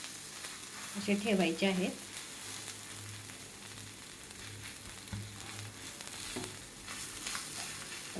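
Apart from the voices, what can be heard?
cut pav bread being mixed in a sizzling pan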